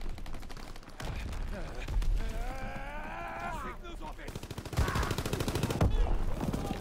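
Gunfire in a shooter video game, bursts of rapid shots close and loud, broken by a pause and resuming heavily near the end, with a player talking over parts of it.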